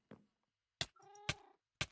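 A cat in the Minecraft video game gives a couple of short, clear meows, one with a drawn-out tonal cry, separated by crisp clicks and brief silences.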